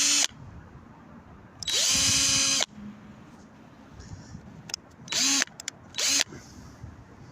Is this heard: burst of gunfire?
no